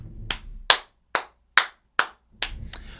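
A roundtable panel gives a quick, sparse round of applause, about seven distinct claps spaced evenly, close and fairly soft, with no voices.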